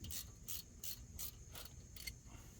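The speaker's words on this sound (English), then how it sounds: "Then you can grab your socket and snug it down." Socket ratchet snugging down an 8mm bolt on a Ford F150 during a 4WD wheel bearing job: six quick, evenly spaced clicking bursts, close and fairly quiet, over a low background hum.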